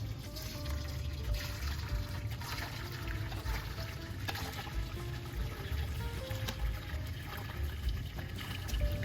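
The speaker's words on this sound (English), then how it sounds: "I'm just going to place these tomatoes into the colander gently and let the water all drain through" Water draining from tomatoes in a colander in a kitchen, a continuous gurgling trickle and splash, close and moderately loud, without speech.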